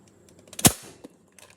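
A modded X-Shot Rapid Fire dart blaster fires once, giving a single sharp, close snap followed by faint clicks from handling.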